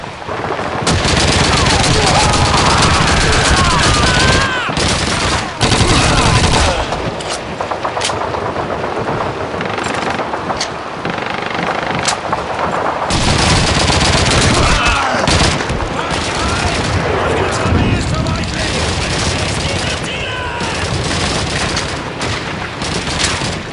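Gunfire in a Call of Duty 2 battle on the approach to Hill 400: dense, continuous machine-gun bursts and rifle shots with explosions, loud and nearly unbroken, with shouted voices mixed in.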